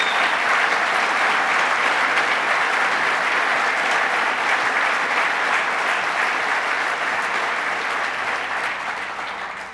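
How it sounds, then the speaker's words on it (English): Sustained applause from an audience at a government economic development event, a dense, even wash of clapping lasting around ten seconds and fading slightly at the end, loud and without speech. "let's give him a round of applause."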